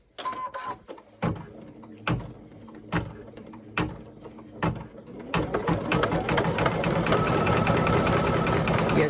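Embroidery machine stitching appliqué: slow, separate mechanical thumps at first, then speeding up into a loud, continuous rapid whirring chatter of needle and gears, close by.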